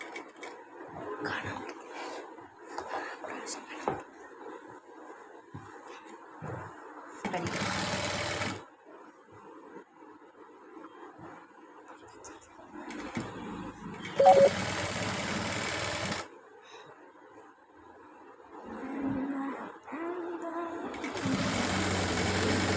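A tailoring sewing machine stitches fabric in three fast whirring bursts of several seconds each, while a person talks quietly in the gaps between them.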